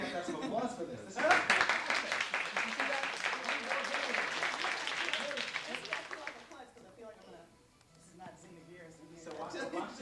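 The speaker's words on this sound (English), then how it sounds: "have to have some applause for this" Studio audience applauding on a 1994 CNBC talk show set, a dense burst of clapping that starts abruptly, holds for several seconds, then thins out beneath talk.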